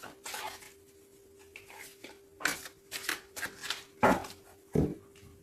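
A deck of tarot cards being cut and shuffled, giving a series of soft riffling and slapping bursts with a few sharper card thumps toward the end, close and fairly quiet over a steady low hum.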